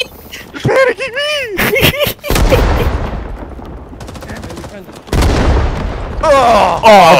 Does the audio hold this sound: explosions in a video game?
yes